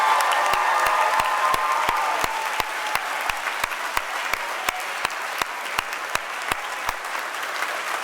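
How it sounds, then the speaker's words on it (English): An audience applauding Golden Cultural Award winners at a school awards ceremony, steady sustained clapping from a large crowd with individual claps popping out, filling the whole stretch. "Give one more round of applause for all of our Golden Cultural Award winners"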